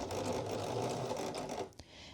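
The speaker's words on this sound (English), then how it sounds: "I am sewing about a 1/16 of an inch away from the edge of that" A sewing machine stitches along ribbon tape about 1/16 inch from its edge on a hoodie, running steadily and close for under two seconds, then stopping abruptly with a brief mechanical clunk.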